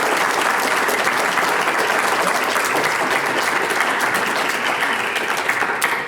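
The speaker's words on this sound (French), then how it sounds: "vous méritez énormément d'applaudissements" A theatre audience at an improv show applauds performers, dense continuous clapping from many hands, loud and steady for the whole stretch.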